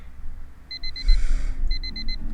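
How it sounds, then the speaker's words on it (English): Alarm clock beeping in a visual novel video game, two bursts of rapid, evenly spaced high electronic beeps separated by a short gap, clear over a low background hum. "I woke up to my alarm beeping"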